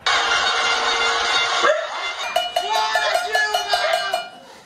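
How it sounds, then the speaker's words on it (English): Crowd pot-banging protest in São Paulo heard from a window, a steady wash of metallic clanging and clatter with a bright tonal ring and scattered honk-like tones, loud and continuous. "People were banging their pots, honking their horns."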